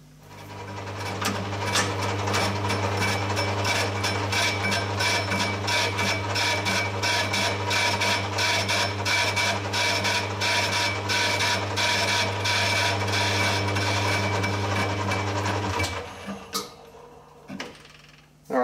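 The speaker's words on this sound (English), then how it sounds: "I'm using a carbide insert running this 85 RPM" Metal lathe turning the rim of a steel pipe with a carbide insert at 85 RPM, part of a home-built foundry sand muller: a loud, steady mechanical drone and hum with busy clicking texture throughout, stopping near the end.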